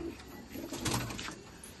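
Pigeons coo softly and intermittently in a fancy loft collection, low murmuring calls rising briefly near the middle over steady background noise.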